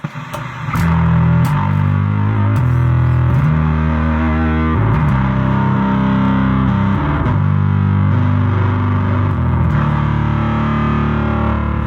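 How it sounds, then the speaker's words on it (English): A loud, heavily fuzzed bass guitar through a fuzz pedal plays a gritty riff of stepping low notes with a raspy, distorted edge that holds steady throughout. "unique sounding fuzz pedal as well"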